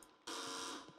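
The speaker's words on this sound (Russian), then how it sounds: "Женщина, у тебя пищит, ты что не слышишь?" A loud electronic alarm in The Evil Within suddenly starts up after a brief quiet moment and keeps beeping steadily, with a few faint low knocks underneath as it continues.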